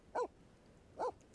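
Two short, clear dog barks from a pet dog in The Sims 4 life-simulation game, spaced about a second apart, loud and alone against a quiet background.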